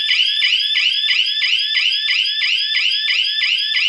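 A loud electronic hooter wails in fast, steady repeating sweeps from a 4G three-phase power failure alert unit sounding after two phases trip, continuous and close with no talk.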